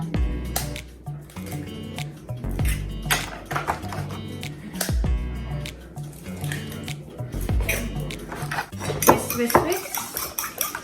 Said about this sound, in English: You have to whisk this really good.